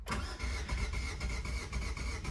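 A Renault Arkana engine starts up, the starter catching at once and settling into a steady, fairly loud mid-pitched running hum, close by with no talking.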